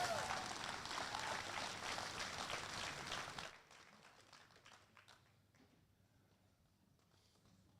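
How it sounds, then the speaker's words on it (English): An audience applauds at the Rodeo Austin market barrow livestock show, a steady crowd clapping for about three and a half seconds that then stops abruptly, leaving a quiet arena with faint scattered sounds. "let's give them a big round of applause"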